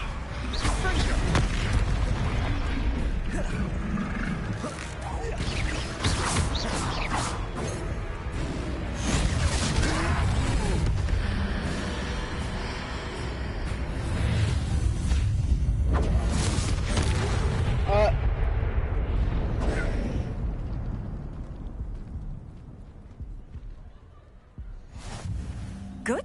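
Hogwarts Legacy combat rings with spell blasts and explosions, including Confringo, Levioso and Accio casts. Heavy booms and crashes arrive in rapid bursts over a steady roar that runs most of the way through, then briefly thins near the end.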